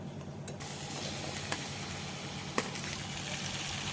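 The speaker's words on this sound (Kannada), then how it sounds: "ಫಸ್ಟ್ ನಾವು ಇದನ್ನ ಬೆಂಡೆಕಾಯಿನ ಹುರ್ಕೊಳ್ಳೋಣ" Large pieces of okra frying in a few spoons of oil hiss in a steady, soft sizzle, with a couple of light clicks from stirring, close and fairly quiet.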